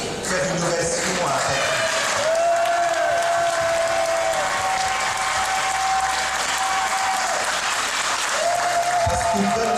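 A theatre audience gives a loud, sustained ovation of dense clapping that runs unbroken for about ten seconds, with cheering and a held vocal tone mixed in.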